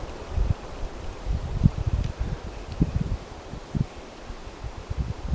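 Gusty wind buffets an outdoor microphone at night, rising and falling in low rumbling bursts with a faint rustle of leaves, steady and close throughout with no one talking.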